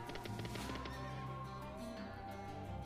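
A horse whinnies in a horse racing game, a clear drawn-out neigh with faint hoof clip-clops mixed in, heard alone at low level.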